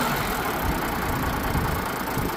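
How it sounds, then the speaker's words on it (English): An International 786 FWA tractor engine idles steadily with a loud, dense, unbroken rumble. "I want them to see just how easy it starts"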